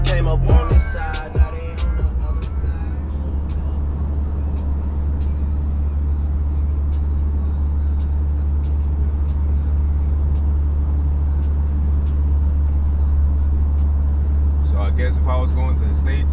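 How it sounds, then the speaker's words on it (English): Sustained road noise from a car on cruise control during a road trip, a steady low engine and tyre drone heard from inside the cabin, with a brief voice at the start. "Speeding, the car is speeding because I ain't driving right now."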